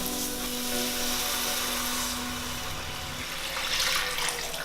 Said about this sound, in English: I'm basically just going to add a couple of liters of water